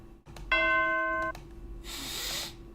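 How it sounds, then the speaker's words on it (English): A bell chime used as a sound effect rings out once, bright and sustained with ringing overtones for under a second, followed by a soft noisy swish; loud and alone with no talking. "Just a bell."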